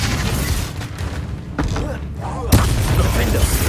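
Confringo explosion spell effects in Hogwarts Legacy, booming blasts and impacts layered with combat sounds, with sharp louder hits near the middle and later in the clip.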